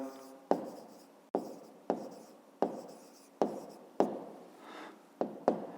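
A pen writes numbers by hand, making a series of sharp taps and short scratchy strokes at a quick, uneven pace, close and fairly quiet.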